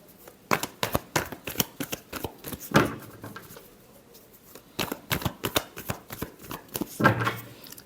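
Tarot cards are shuffled in repeated quick bursts of riffling flutters, close and crisp, with short pauses between rounds and no talk over them.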